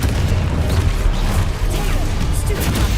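Dense, rumbling blasts and crashing impacts from combat in the Hogwarts Legacy video game, loud and continuous with little pause, with a voice faintly mixed in.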